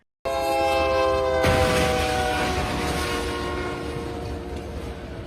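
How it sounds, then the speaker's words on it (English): A train horn blares long and loud over the rumble of a passing train at a crossing in Odessa, Texas, where a pickup truck sits stuck on the tracks; the steady tone starts abruptly and holds nearly unbroken throughout. "A train comes through and hits a pickup truck head-on while it's stuck right on the tracks"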